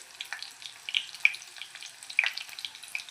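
Curry leaves and crushed garlic crackle and spit in hot oil, a steady close sizzle broken by sharp pops, with no talk over it.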